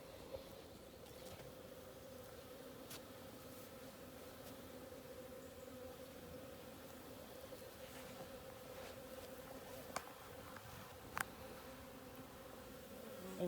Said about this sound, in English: The bees are coming out of the top.